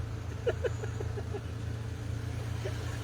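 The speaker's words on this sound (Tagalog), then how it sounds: "Sobrang traffic." Heavy road traffic idles in a jam, a constant low engine rumble from cars and larger vehicles nearby, with faint distant voices at the start.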